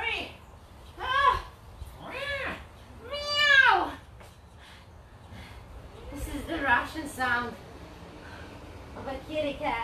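A cat meowing: several distinct, loud, close meows, each a rising-and-falling cry, spaced a second or two apart, followed by a cluster of shorter, fainter chirping mews.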